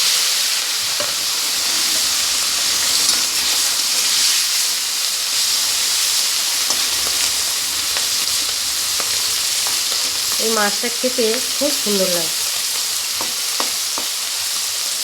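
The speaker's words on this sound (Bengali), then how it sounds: "আমার মাছগুলো ভাজা হয়ে গেছে" Murla fish fry in a hot kadai with a steady, loud sizzle and hiss lasting throughout, while someone speaks briefly partway through over the frying.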